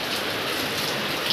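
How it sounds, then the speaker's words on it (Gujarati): Heavy rain pouring down outdoors, a steady dense hiss of drops on surfaces, even and unbroken, with no voices. "એવો વરસાદ ચાલુ થઈ ગયો"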